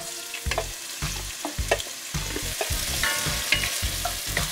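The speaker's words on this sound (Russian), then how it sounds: "Обжариваем лук до мягкого состояния." Chopped onion sizzles in olive oil inside a cast-iron pot, with rhythmic, regular spoon strokes scraping through the frying at close range, no voices.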